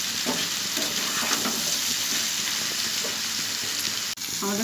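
Vegetable curry with fish, seasoned with chili powder, fries in a pan while being stirred: a dense, continuous close sizzle with soft spoon scrapes and one brief clunk near the end.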